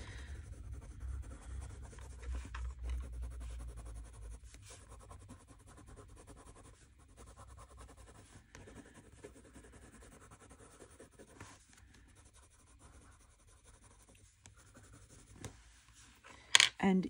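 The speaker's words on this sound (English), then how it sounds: "This is a Derwent drawing in yellow ochre, Derwent drawing pencil." A Derwent drawing pencil in yellow ochre scratches and rubs across paper in soft, irregular strokes. The strokes sit close and quiet under intermittent talk, with a brief louder clatter at the end.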